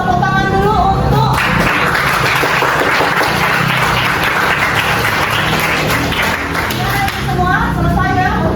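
A high school class applauds together in a classroom, loud close clapping that bursts in after a spoken line and rolls on for several seconds, with voices heard faintly at the start and the end.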